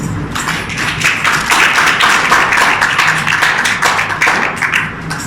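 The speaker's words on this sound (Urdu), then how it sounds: "اپنے اپنے لیے تالیاں بجائیں" A church congregation claps during a Pentecost sermon given in Urdu: dense, brisk hand clapping from many people, loud and sustained for several seconds without speech.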